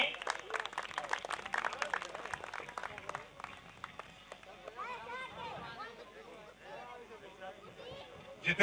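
An audience claps at a village stage honour ceremony in Averni. Dense, lively clapping fills the first half, then thins as someone speaks loudly over a PA with crowd chatter.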